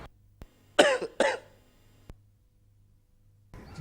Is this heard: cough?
yes